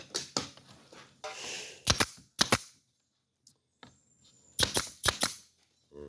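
Sharp, loud pneumatic shots drive fasteners into bamboo slat roofing, with several single cracks and a paired burst, separated by short pauses and light handling noise.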